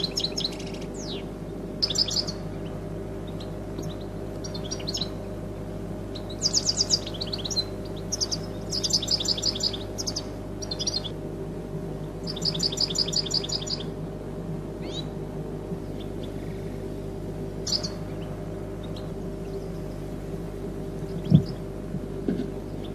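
Goldfinches chirp in scattered bursts of quick twittering notes near trapping nets in a field, fairly close, separated by pauses over a steady low hum, with no one talking.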